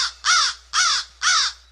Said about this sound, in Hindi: कुछ देर बाद एक कौवा काव काव करता हुआ वहां आया